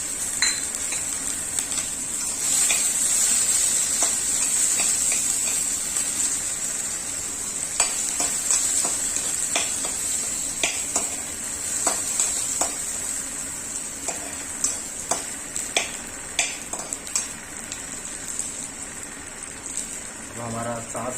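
Chopped onion frying in mustard oil with mustard seeds in a pan, a steady loud sizzle with scattered scrapes and clinks of a spoon stirring throughout.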